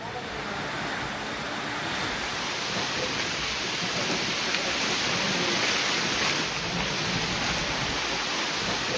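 Heavy rain pours down steadily, a dense, loud, continuous hiss with a faint low rumble underneath and no voices.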